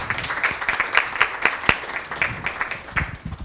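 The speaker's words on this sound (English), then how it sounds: "Let's give him a round of applause again" An audience at a university lecture event breaks into brief, moderately loud applause, scattered claps rising and fading over a few seconds.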